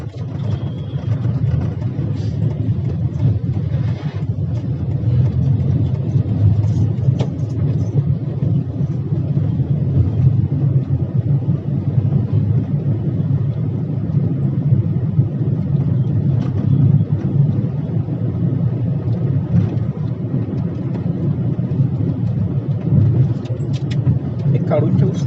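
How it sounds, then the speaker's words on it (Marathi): Car driven slowly and carefully over a road with deep potholes, a steady low engine rumble with faint knocks and bumps running the whole time. "मध्ये थोडे खोल खड्डे आहेत म्हणून सांभाळून चालवावी लागते गाडी."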